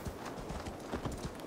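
Rapid hoofbeats of a horse scrambling up a near-vertical slope in Assassin's Creed Valhalla, a brisk continuous clatter of clip-clop impacts, quiet and close.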